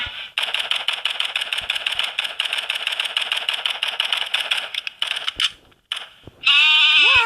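Repeated rattling, bleat-like calls of a sheep in the online hide-and-seek game Hide Online, pulsing steadily for several seconds, then a brief pause and a sharper, louder tonal bleat at the end.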